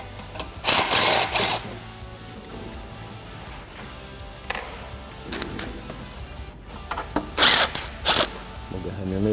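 A power tool whirs in short bursts while screws come out of the front cover of a Yamaha Wolverine RMAX, with several loud spurts separated by quieter handling noise.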